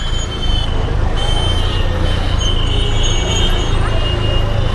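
Steady, loud city road traffic in Jaipur rumbles nearby, with engines droning continuously and a few higher whines passing through.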